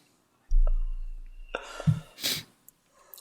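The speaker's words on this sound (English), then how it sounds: "Sneezing so much." A single sharp sneeze bursts out close by, preceded by a low hum and a quick breathy intake.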